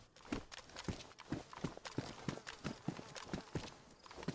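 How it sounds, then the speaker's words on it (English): Footsteps in the video game DayZ: a steady run of about a dozen evenly spaced thudding steps at a brisk walking pace, close and distinct, with no talk over them. "I hear footsteps."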